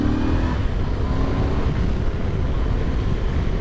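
Voge DS625X adventure motorcycle with 19-inch front and 17-inch rear wheels ridden out of an estate, a steady engine drone blended with heavy wind rush at a near, constant loudness throughout.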